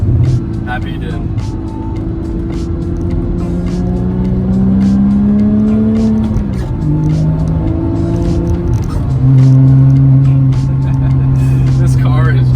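A Porsche GT3 fitted with a Fabspeed Supercup exhaust drives and accelerates, its engine droning and rising through gears, heard from inside the car while someone talks over it.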